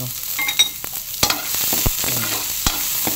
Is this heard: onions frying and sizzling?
yes